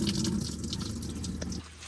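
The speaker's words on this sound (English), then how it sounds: "you can see that fluid now is draining clear, so that means I've gotten most of the old coolant out" Old coolant drains from a Mercedes Sprinter van into a shower pan, a steady close splashing trickle that runs continuously and eases slightly near the end.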